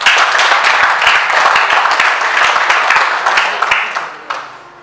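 A church congregation bursts into loud, dense applause after a teaching on purity, many hands clapping together at close range, then it thins and fades out near the end.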